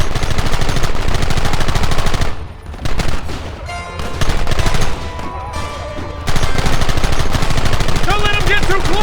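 Sustained automatic gunfire and rapid rifle volleys in the Western video game Red Dead Redemption, loud and dense throughout, briefly thinning mid-clip before resuming at full intensity alongside background music.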